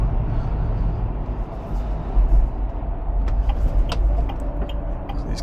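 An Ineos Grenadier with a 3-liter B58 engine accelerating, heard from inside as a steady low engine and road rumble that swells slightly, with faint rattles over it.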